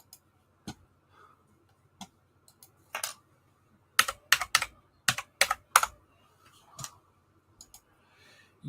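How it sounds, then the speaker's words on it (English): Clattery typing on a loud computer keyboard, irregular bursts of sharp key clicks with short pauses, close and alone. "Wow, my keyboard's loud."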